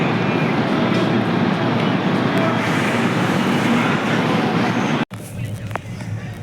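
The Howrah–Chennai Mail passenger train runs near Rajahmundry with a loud, constant rumble and clatter that cuts off abruptly into a quieter, lighter rolling sound for the final second or so.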